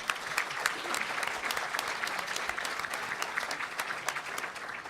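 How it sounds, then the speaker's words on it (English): An audience at a pension reform forum applauds Senator Biss, a steady, fairly quiet wash of many hands clapping that holds evenly throughout without speech. "Big round of applause for Senator Biss."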